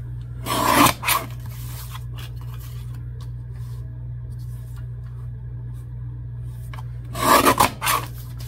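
A small paper trimmer slices through a paper craft tag in two brief rasping strokes, one near the start and one near the end, with a steady low hum underneath and quiet gaps between.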